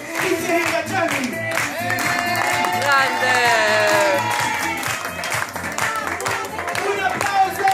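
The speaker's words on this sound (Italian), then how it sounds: "facciamo anche un grandissimo applauso per Cristian Ingaggiani" Birthday party guests clap and cheer under loud, upbeat music with a thumping beat, while someone shouts excitedly over the applause.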